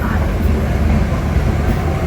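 The Amritsar Mail pulls out of platform 3 at Ludhiana Junction, heard from inside the coach as a loud, steady rumble and roar of wheels and carriage with no clear breaks.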